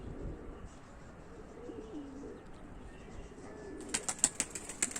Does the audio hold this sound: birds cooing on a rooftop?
yes